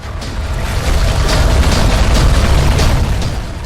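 A sustained, loud, rumbling propane burst explosion in the video game Tomb Raider (2013), a dense roar filling the whole moment with crackling bursts on top, heard close and alone.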